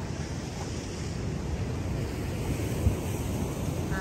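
Ocean waves wash steadily onto a beach in Wollongong, a constant broad surf roar with wind buffeting the microphone and no voices.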